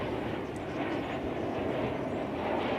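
An American Airlines Boeing 737-800 in TWA heritage livery at Dallas Fort Worth airport gives a steady, broad jet roar, heard at moderate distance and holding constant throughout with no talk over it.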